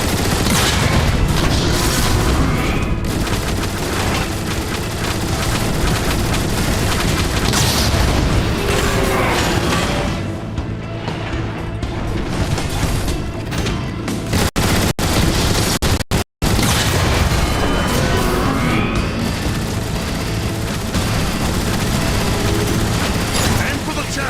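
Rapid gunfire and booming blasts from combat in the video game Transformers: War for Cybertron fill the whole stretch, loud and dense with a brief dropout, under game voices and talk.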